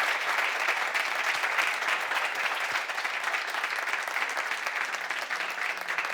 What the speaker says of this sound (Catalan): Espero que li facin un gran aplaudiment